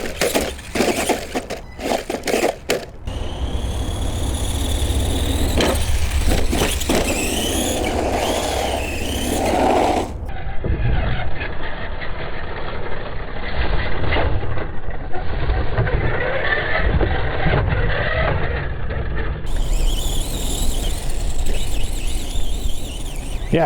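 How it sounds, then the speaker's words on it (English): Arrma Voltage 2WD RC truck doing a burnout, a whining electric motor and scrubbing, squealing tyres that rise and fall in bursts over about twenty seconds, recorded close with bumps and handling noise. "A little burnout right here."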